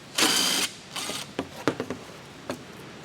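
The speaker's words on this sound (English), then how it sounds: "I'm going to go ahead and remove the transmission skid plate or cover" Ratcheting tool removing 10 mm fasteners from the transmission skid plate under a Porsche Cayenne 4.8L V8, with one sustained whirring burst followed by several short, sharp ratchet clicks and knocks.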